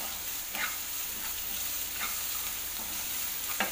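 Poha with turmeric stirred in a pan over low heat: a soft steady sizzle with a spatula scraping through at a slow, regular pace, several distinct strokes, close and fairly quiet, no talking.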